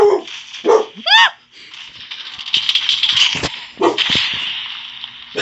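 Several close dog barks and yelps ring out in quick bursts, with rattling noise and brief pauses between them.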